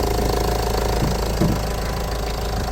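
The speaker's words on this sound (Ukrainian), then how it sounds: "Заведений двигун." A 2010 Nissan Qashqai with a 1.5 diesel engine idles up close, a steady, loud, even rumble with a faint rhythmic knock that holds unchanged throughout.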